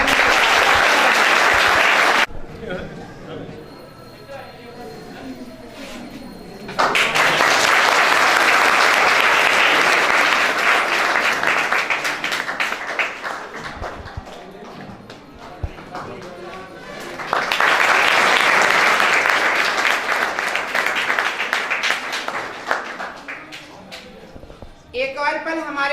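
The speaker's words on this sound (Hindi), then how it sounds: "जोरदार ताली।" Loud audience applause fills three long bursts at a school farewell ceremony, where a block development officer is being honoured. Quieter gaps between the bursts carry other sound.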